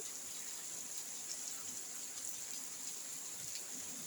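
Heavy rain falls in a soft, steady hiss with scattered patters, quiet and even throughout, with no voices.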